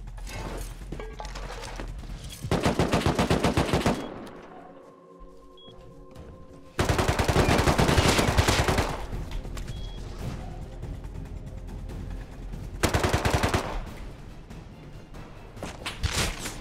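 Rapid automatic gunfire from a video game comes in dense, loud bursts of several seconds each, with short quieter gaps between them and no talking over the shots.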